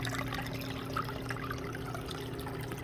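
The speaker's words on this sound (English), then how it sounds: "I put one pump in there to feed the waterfall, which I think turned out great" A small waterfall fed by a pump runs into a patio goldfish pond edged with river rock, giving a steady, close splashing trickle with no pauses or talk.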